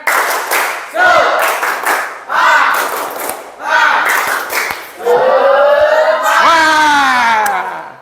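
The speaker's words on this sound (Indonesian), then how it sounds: "ice breaking dulu dengan tepuk semangat" A school class in an Islamic religious education lesson performs the rhythmic spirit clap (tepuk semangat), loud patterned bursts of group clapping, then a shouted chant from many voices.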